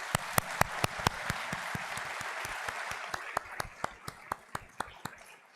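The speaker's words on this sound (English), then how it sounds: "So one more time, clap for your family and parents." At an honors college convocation ceremony, an audience applauds for families and parents. Several distinct sharp claps rise over a softer bed of clapping, then thin out toward the end.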